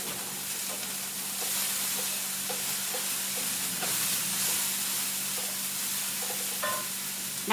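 Cabbage, onions and garlic frying in a pan give a steady, even sizzle with soft intermittent stirring scrapes and a low constant hum underneath, with no talking.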